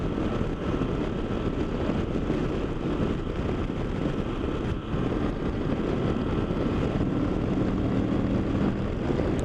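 Moto Guzzi V85TT motorcycle accelerating in sixth gear, a steady loud low engine roar mixed with heavy wind rush, continuous for the whole stretch.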